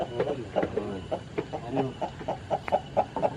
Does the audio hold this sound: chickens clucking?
yes